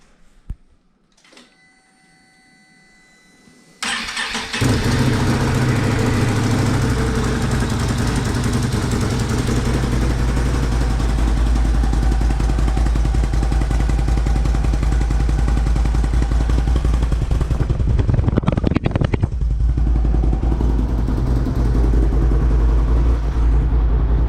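A 2019 Ski-Doo Renegade XMR snowmobile with its stock exhaust cranks and fires after a few quiet seconds, then settles into a loud, steady, rattly two-stroke idle that holds for about twenty seconds with one brief revving swell.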